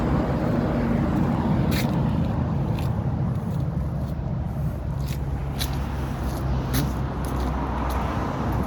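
A small tractor's steady low engine drone runs continuously, loud and close, with a constant rumbling hum and faint wind noise over it.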